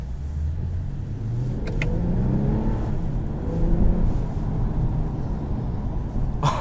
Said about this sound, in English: So much power. This is out of a Toyota Camry